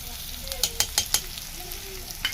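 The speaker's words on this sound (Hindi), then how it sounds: "हम लोग ये प्याज को लाल होने के लिए छोड़ देंगे धीमे आंच पे" Onions fry slowly over low heat in a non-stick kadhai, a steady sizzle broken by a few sharp clinks and scrapes from stirring.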